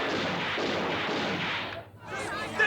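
Sustained gunfire and blasts in a disaster movie scene, a dense, loud roar of shots that drops out briefly near the end before noise returns, with voices mixed in.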